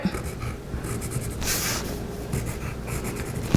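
A pen writes "cut on fold" on a paper sewing pattern while drafting a top, a close, steady scratchy stroking with brief pauses between letters.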